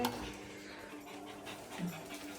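A dog panting steadily in a small enclosed room, soft rhythmic breaths close by with a faint low background hum throughout.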